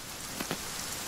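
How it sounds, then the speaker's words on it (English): Rain falls in the survival video game The Forest as a constant soft hiss of drops on surfaces, with a couple of faint taps. It is quiet and steady, with no speech. "Oh, it's starting to rain a lot now."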